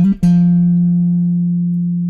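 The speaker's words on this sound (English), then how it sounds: "it's a little turnaround that sounds like this." A bass guitar plays the short turnaround figure from Come Together: a quick plucked lead-in and then one low note held and ringing out cleanly, alone and close.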